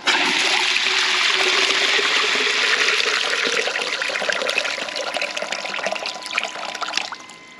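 Milk pouring from a dispensing pump on a milk cart into a 3 litre jug, a steady close rush of liquid that softens slightly toward the end as the jug fills, then stops.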